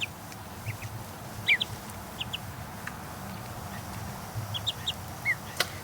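Ducks on a farm property where ducklings are hatching give scattered short quacks and chirps. The calls are fairly faint over a steady low rumble of background noise.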